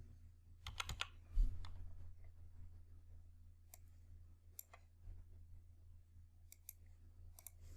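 Keys tapped on a computer keyboard while numbers are entered into a spreadsheet, a quick burst of clicks near the start followed by sparse single keystrokes, close and fairly quiet over a low steady hum.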